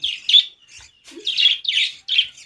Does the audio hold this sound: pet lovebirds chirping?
yes